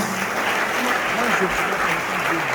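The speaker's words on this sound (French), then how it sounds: "Il faut les applaudir, il faut leur rendre l'honneur et le respect aussi." An audience at a political rally meeting in Guadeloupe keeps up dense, steady applause, with a voice speaking faintly underneath the clapping.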